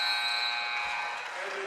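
A long, steady electronic buzzer sounds at the end of the third quarter in a women's college basketball game, a bright sustained tone filling the arena, with crowd noise and commentary running underneath.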